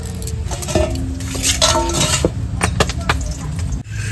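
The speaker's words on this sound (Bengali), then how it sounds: "এবার ভাতটা বেড়ে নেব, বেড়ে সবাইকে খেতে দিয়ে দেবো।" Cooked khud rice being served onto plates, with close clinks and scrapes of a serving spoon against metal plates and pots in quick irregular strikes, a voice murmuring in the background.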